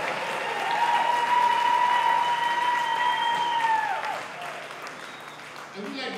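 Loud, steady applause from a live audience at an all-star band concert, filling the whole stretch while a held instrumental chord rings over it and fades out near the end.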